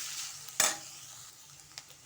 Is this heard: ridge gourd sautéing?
yes